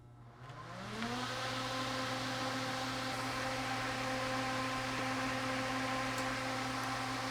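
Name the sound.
propane torpedo heater fan spinning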